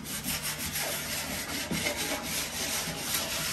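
Continuous close rasping and rubbing as a hand tool deburrs the spars of a Rans S-21 kit aircraft's horizontal stabilizer, a steady scraping texture with faint repeated strokes.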